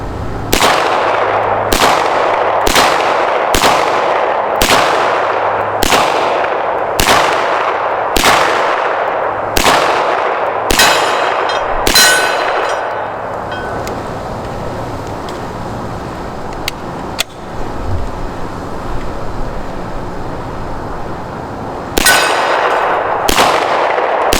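C96 pistol fires a rapid series of about a dozen sharp, loud, ringing gunshots at an even pace, followed by a quieter stretch with a faint clank, then two more shots close together; no talking.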